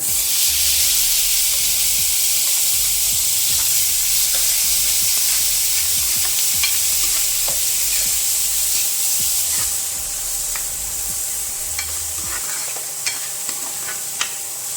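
Onions fry with cumin and a pinch of asafoetida in a pan for a nutri sabji, a loud steady sizzle close up, with rhythmic scraping stirs and occasional clinks of the spoon and no talking.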